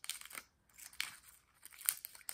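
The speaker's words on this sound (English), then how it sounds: "Scissors are not very sharp." Blunt scissors snip through an acrylic press-on nail in a few short crunchy cuts with gaps of quiet between them, close up and fairly faint.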